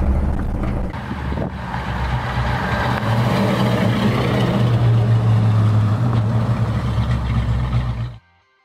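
A 1970 Plymouth Superbird muscle car cruises in fourth gear on an open road, its engine a loud, steady low rumble that holds for about eight seconds and then cuts off abruptly.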